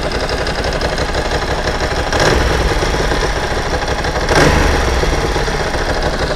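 A carburetted motorcycle engine idles steadily while warming up during carburettor tuning, a close, even rumble with two brief swells in level and no talk over it.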